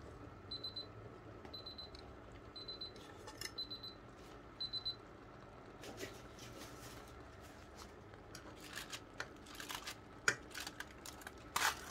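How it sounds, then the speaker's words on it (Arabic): A De'Longhi air fryer alarm beeps in five evenly spaced high double chirps, followed by clattering and handling noises. "هتفضل بقى تصفر كده لغايه لما ايه نوقفها"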